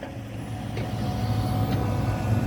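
A heavy truck at an earthworks construction site idles and rumbles with a low, steady engine drone that grows slightly louder. Faint clanks sound now and then, and no one speaks.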